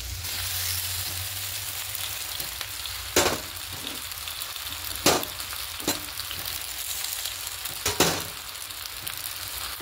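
Pasta frying in a pan for a restaurant-style pasta recipe: a steady, close sizzle runs throughout, with a few sharp scrapes and knocks of a spoon stirring.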